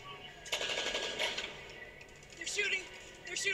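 Gunfire in a tense scene from The Last of Us TV series: bursts of rapid shots come in two or three clusters, fairly loud and sharp, with frightened voices reacting around them.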